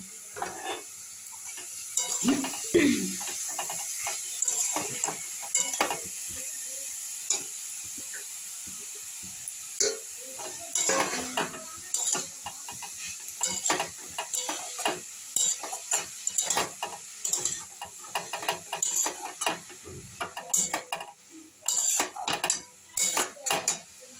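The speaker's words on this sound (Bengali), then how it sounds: "বিট গাজরটা এখানে আমার কষা হয়ে গিয়েছে।" Beetroot and carrot stir-fried in a pan: a spatula repeatedly scrapes and clatters against the metal over a continuous low sizzling hiss, with irregular clusters of knocks and a little quiet talk.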